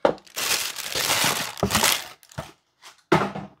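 Plastic bag holding a single-channel push-to-talk foot switch crinkles loudly as it is opened, in several bursts of rustling with short pauses between them.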